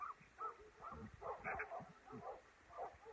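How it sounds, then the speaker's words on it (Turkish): Several village dogs bark and yip excitedly outdoors as rain begins, a steady run of short, moderately distant barks with no one speaking. "Köpekler coştu şu an."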